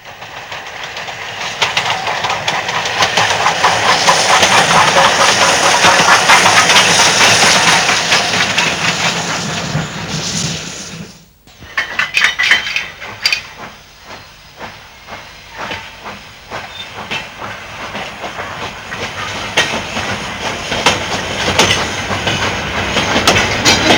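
Steam locomotive Oliver Cromwell runs light with no train, a loud roaring hiss of steam sustained for about ten seconds, then a brief drop and a rattling clickety-clack of wheels over rail joints as it passes.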